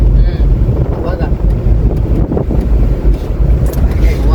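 Wind buffets hard through the open window of a moving truck, a loud low rumbling roar with gusty swells and mic-blasting thumps, with voices partly heard beneath it.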